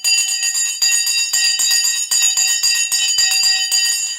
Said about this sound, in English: The bell has gone on a Friday